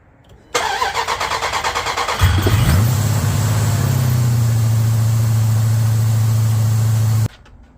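Gen 3 Hemi V8 fitted with a vented catch can cranks over briefly, catches with a loud flare and then settles into a steady, high idle that holds close and unbroken to the end, with no talking.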